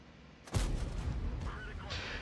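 A high explosive round fired from a tank cannon in World of Tanks, shot from the FV215b 183, lands as one sudden heavy blast, loud and close, trailing off into a rumbling battlefield din.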